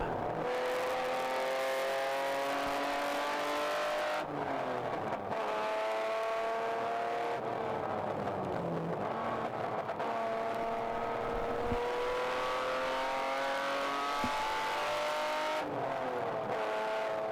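Endurance race cars at Gingerman Raceway scream past in a ChampCar race, engines rising and falling in pitch with gear changes as they battle for position, loud and sustained with no voices.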